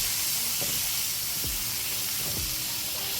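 Steak searing in butter in a hot pan, a continuous loud hiss and sizzle with a few faint knocks underneath, no voices.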